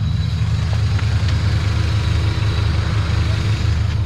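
A Honda CR-V with a swapped B20 VTEC engine idles steadily nearby, a smooth low rumble holding an even note throughout with no voices.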